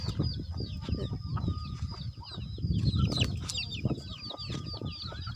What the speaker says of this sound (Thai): อันนี้ไก่ฮะเนาะ